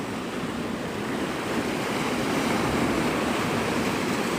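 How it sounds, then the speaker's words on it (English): Ocean surf rolls in at Navarre Beach, Florida at sunrise, a broad steady wash of breaking waves with some wind buffeting the microphone, no voices. "This is Navarre Beach, Florida."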